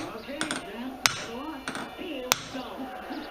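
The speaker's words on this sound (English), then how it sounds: "Take a brass hammer and smack it right in the middle" A brass hammer strikes an expansion plug into a power steering control valve of a 460 International utility tractor, giving two sharp metallic smacks plus lighter taps, fairly quiet, with a voice talking underneath.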